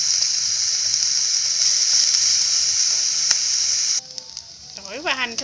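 Minced shallots and garlic dropped into rendering pork fat in a pan, a loud close hiss that drops suddenly partway through, leaving softer crackling and bubbling sizzle.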